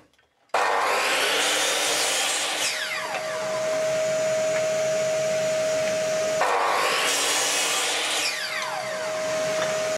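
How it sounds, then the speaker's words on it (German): A miter saw slices through wooden boards cut to 90 mm length, with two loud whining cuts, each spinning up, biting through the wood and winding down, the second starting around midway, with no talk. "schneiden wir die Sachen jetzt alle hier an der Kappsäge"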